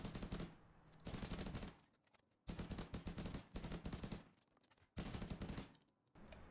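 Sharpshooter rifle shots in Division 2 hammer at training dummies in three dense, rapid bursts with short silent gaps between them, loud and close with no voices.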